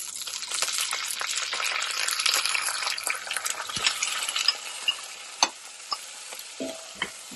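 Green peas are stirred in a frying pan over golden-fried ingredients for vegetable rice, a busy sizzle under scraping strokes that thins out into a few sharp utensil knocks against the pan.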